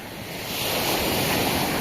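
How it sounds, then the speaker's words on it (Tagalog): Strong ocean surf rolls in against the shore, a loud, steady roar of breaking waves with wind buffeting the microphone and no voices. "Lakas ng wave. Lakas ng alon."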